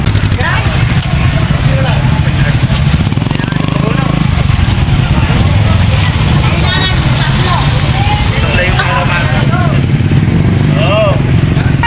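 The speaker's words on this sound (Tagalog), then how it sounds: "Yan, ay motor ko natin." A motorcycle engine runs loud and close, a continuous rumbling drone with someone talking over it throughout.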